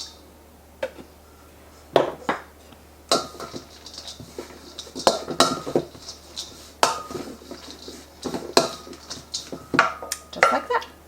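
A spoon clinks and scrapes against a bowl while crumbled pieces are stirred together with Colby Jack cheese, giving irregular, close-up taps and rattles with short pauses between strokes.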